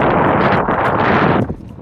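Steady roaring wind buffets the microphone during an early-morning bike ride on a good road toward a waterfall near Ângulo, loud and continuous before easing near the end.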